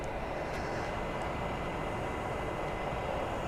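A Porsche 993 sits after a brief run, giving off a steady, continuous whir as it cools down. The noise is broadband and even, holding at a constant level throughout with no talk over it.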